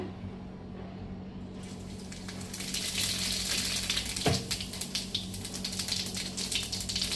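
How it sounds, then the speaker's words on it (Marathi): Cumin seeds hit hot oil for a kadhi and begin to sizzle, a quiet backdrop that rises into a steady crackling hiss with a brief clatter partway through, no speech. "तेल चांगलं तापलंय आपलं। तर ह्याच्यामध्ये आता आपण जिरे सोडूया"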